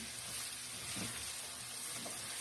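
Faint, steady sizzling of mushrooms frying in a pan, a soft continuous crackle with no talking.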